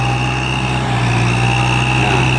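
Kubota M6040 tractor engine laboring under load while deep plowing with a three-disc plow fitted with new size 26 discs, a steady loud drone with a strong low hum and constant pitch throughout.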